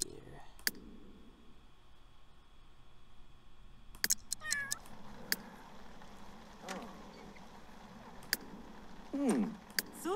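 Sims 3 cat meowing in a game, short synthetic meows and chirps scattered over low room hum with clicks and faint voices around them.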